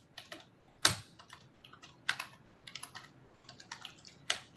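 Someone typing on a computer keyboard nearby, irregular clusters of crisp key clicks with a few sharper, louder strikes and short pauses between bursts.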